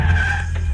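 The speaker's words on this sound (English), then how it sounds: "It slewed into the opposite curve with a squealing of brakes." A convertible car slews into a curve with squealing brakes, a short steady tire-and-brake screech over a low engine rumble, loud and close, as a radio drama sound effect.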